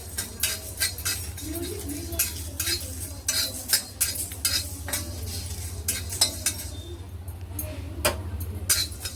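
Cumin and whole spices dry-roasting in a pan, stirred continuously with a metal spatula that scrapes and clinks rhythmically against the pan, close and fairly loud, over a faint low hum with no talk.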